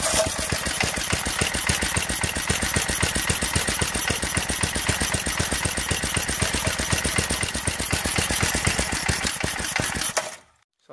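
A Briggs & Stratton 4 hp tiller engine runs steadily and loudly with a fast, even firing pulse for about ten seconds, then cuts off abruptly.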